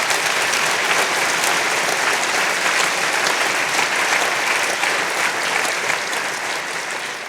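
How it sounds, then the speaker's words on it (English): Sustained audience applause fills an event hall at Church House Westminster, a dense, steady clatter of many hands that holds at full strength for several seconds before easing slightly toward the end, with no voices over it. "give them all a round of applause for me"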